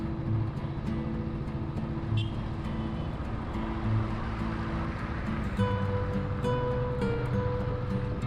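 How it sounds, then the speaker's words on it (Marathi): Steady road traffic on the Mumbai-Pune highway near Pimpri Chinchwad rumbles continuously close by, with engine drones rising and falling and a few faint horn-like tones, heard from a moving vehicle. "हा हायवे आहे मुंबई पुणे हायवे."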